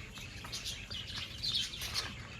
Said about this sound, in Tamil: இந்த குருவி சத்தம் இதெல்லாம் பார்க்கல.